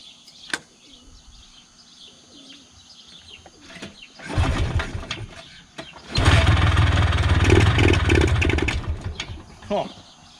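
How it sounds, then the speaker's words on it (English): A Polaris two-stroke ATV engine turns over in a short burst, then catches and runs loud and close for several seconds. Birds chirp faintly in the background, and a voice talks briefly. "Oh, she's a runner. She is a runner."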